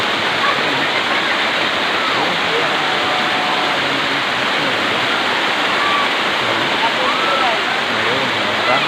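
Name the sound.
Balagbag waterfall with children bathing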